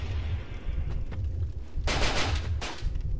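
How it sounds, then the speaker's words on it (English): Avelyn repeating crossbows fired in Dark Souls 2, two sharp bursts of rapid bolts, each about half a second, over a low rumbling background with a few faint clicks before. "you can shoot both Avelyns at the same time while you're standing still"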